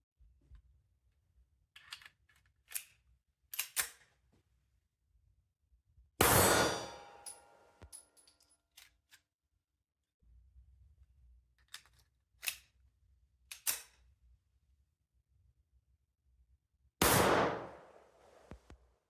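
French 1935A pistol being cleared of a failure-to-extract malfunction, with sharp metallic clicks and clanks of the slide, then two loud gunshots, one midway and one near the end, heard at close range.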